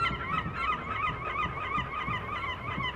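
Poultry calls in the farming video game Farming Simulator 22, a steady run of close, loud, nasal honking clucks repeating throughout without pause.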